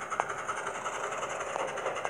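Toy Thomas and Friends trains run along a model track, a Percy engine pulling Annie and Clarabelle coaches, giving a steady soft rolling rattle with a few small clicks throughout.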